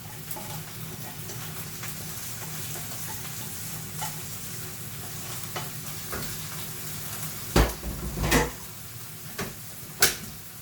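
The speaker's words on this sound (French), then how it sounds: "je vais rajouter mes épinards dans mes oignons" Spinach added to onions frying in a pan, a steady broadband sizzle throughout, with a few louder stirring clatters and utensil knocks near the end.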